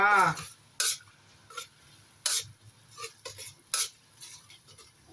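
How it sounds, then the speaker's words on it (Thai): Stir-frying pork belly and morning glory with shrimp paste in a pan: a spatula scrapes and clatters against the metal in irregular bursts, close and fairly loud, over a low background sizzle with no talking. "ผัดให้หอมๆเลยนะคะ"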